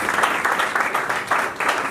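Church congregation at a Sunday service clapping loudly to welcome the pastor, a thick continuous round of applause swelling in waves, close and energetic, with no voices over it.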